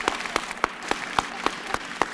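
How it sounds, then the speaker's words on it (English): Audience applause at an artist talk with photographer Hiroshi Sugimoto, a brief patch of sparse, evenly spaced claps, fairly quiet and heard alone. "we should give a big round of applause"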